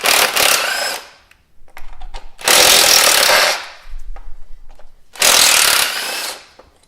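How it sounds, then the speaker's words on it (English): An electric impact wrench removes ignition coil bolts on a Dodge Neon, firing three loud, close hammering bursts of about a second each, separated by short pauses with faint clicks. "I'm using the electric impact right now, and there's just 4 bolts which we have to remove."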